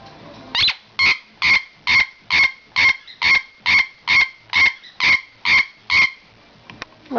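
Pet bird calling noisily indoors, a loud, evenly spaced series of about twelve sharp squawks repeated in steady rhythm, each call close and strong, ending with a few softer chirps.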